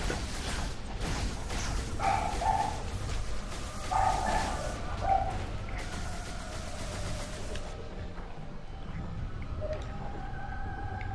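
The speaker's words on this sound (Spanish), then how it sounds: "tu perro no deja de ladrar" A pet dog barks in the background of a home room during a co-op Halo 2 session, a few short bursts of yipping barks over continuous game sound.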